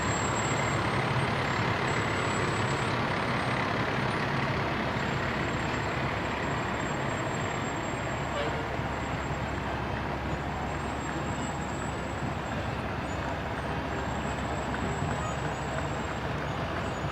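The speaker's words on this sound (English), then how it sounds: "And our ladder truck from W.H. Bradford, H&L number 1." A fire department ladder truck, W.H. Bradford Hook and Ladder No. 1, rolls past in a Battle Day parade, its heavy engine a steady, loud rumble under continuous street noise with no talk.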